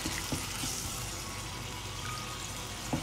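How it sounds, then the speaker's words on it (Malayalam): Second coconut milk is poured into a creamy egg masala in the pan, giving a steady, soft liquid rush that runs evenly for about three seconds, with a few faint clinks and no talking. "നമ്മൾ എടുത്തു വച്ചിരിക്കുന്ന രണ്ടാം പാൽ ഈ സമയം ഇവിടെ ചേർത്ത് കൊടുക്കാം."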